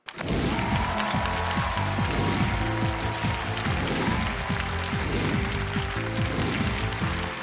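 Studio audience applauding to welcome three contestants onto a dating show stage, a steady dense clapping wash under loud stage music with a driving beat, sustained throughout.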